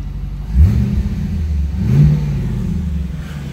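Car engine with its original factory exhaust system revving under an open hood, two rising throaty blips over a steady low idle, close and loud.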